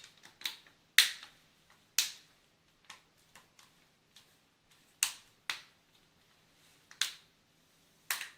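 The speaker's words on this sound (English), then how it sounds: "Put your bezel in place and snap around the screen to get it to seat." Plastic screen bezel on a Samsung NP305V5 laptop snapping into place, a series of sharp, close clicks at irregular intervals, some louder than others, with quiet gaps between.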